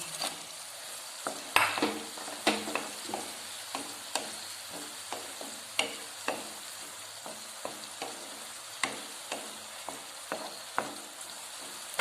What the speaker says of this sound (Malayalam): ഇപ്പോൾ വിനാഗിരി തിളച്ചു. ഇനി വറുത്ത് വെച്ചിരിക്കുന്ന മീൻ അതിലേക്ക് ഇടുകയാണ്.